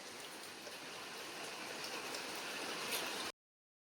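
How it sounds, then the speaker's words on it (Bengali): Heavy monsoon rain pours down in a steady, dense hiss of drops on surfaces, constant and moderately near, with no talk, cutting off abruptly near the end. "এখন বৃষ্টি আর জোরে জোরে চলে এসছে।"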